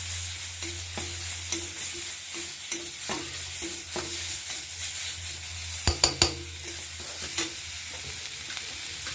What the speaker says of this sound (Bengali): দিয়ে মশলাটা ভালো করে একটু নেড়ে করে নেব।